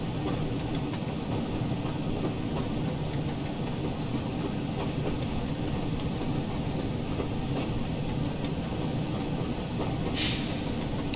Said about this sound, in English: we are running low on steam here on this locomotive that is actually supposed to pull heavy freight trains